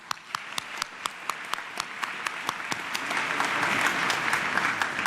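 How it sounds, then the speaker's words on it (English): Audience applause fills the hall at a high school graduation ceremony, a dense, sustained clapping that swells louder toward the end, with no talk over it. "Let's have another round of applause for our retirees."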